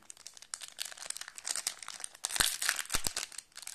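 A Dragon Ball Super card booster pack is opened close up, its foil wrapper giving quick, irregular crinkles and a few sharper tearing rips in a busy stretch of handling.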